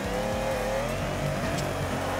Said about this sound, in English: Supercharged Mustang.